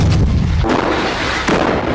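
Heavy blasts from IED explosions in Jenin city in the West Bank, two deep booming bursts with rumbling tails, loud and close-sounding.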